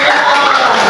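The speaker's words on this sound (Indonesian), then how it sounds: "Oke, tepuk tangan teman-teman." Classmates in a classroom break into loud, close applause, a dense, unbroken wash of hand claps lasting about a second.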